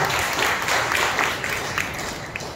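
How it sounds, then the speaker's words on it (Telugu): A church congregation at a Sunday service claps loudly in praise, a continuous wash of many hands sounding from across the hall, steady and unbroken with a few sharper claps standing out. "బిగ్గరగా చప్పట్లు కొట్టి ప్రభువును మహిమపరచండి"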